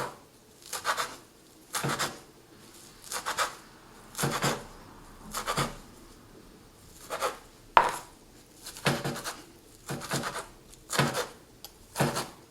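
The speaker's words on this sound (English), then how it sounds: "There's probably more economical ways to chop this up, but this is the best way I know how to do it." A kitchen knife slices tomatoes and onions for pico de gallo on a cutting board, about a dozen steady rhythmic chopping strokes, close and clear with no talking.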